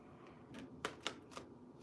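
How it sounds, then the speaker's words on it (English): Large tarot cards being shuffled by hand, giving a few quiet, sharp riffling snaps and flutters spaced irregularly over a faint, hushed background. "These cards are so hard to shuffle."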